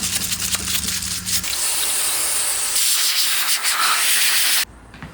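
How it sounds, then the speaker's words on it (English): Compressed air hissing through the lines of a Honda CBR125R motorcycle during cleaning, a loud continuous close-up blast with a brief low hum at the start, ending abruptly into quieter background. "we'll blow some air through the lines"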